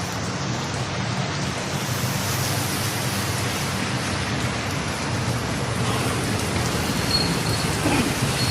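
Steady rain pours down outdoors in a broad, unbroken hiss, loud and constant for the whole stretch with no voices.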